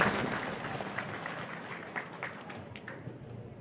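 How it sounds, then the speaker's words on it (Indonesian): Audience applause at a motivational talk, a steady wash of clapping from a crowd that fades slightly toward the end, with no voices over it. "tepuk tangan dulu semangat"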